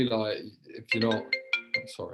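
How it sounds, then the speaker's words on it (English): A mobile phone ringtone plays repeated bright electronic tone bursts in a quick rhythm, heard partly under someone talking during a video-call interview. "that's my phone going off"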